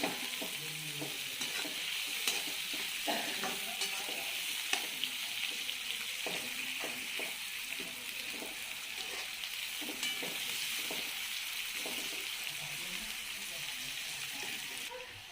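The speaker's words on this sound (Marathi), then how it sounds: "आता आपण याच्यामध्ये स्लाइस कांदा टाकूया. याला आपण थोडासा फ्राय करून घ्यायचा आहे." Sliced onion frying in a pan gives a steady, close sizzle with occasional stirring scrapes, continuous throughout without talk.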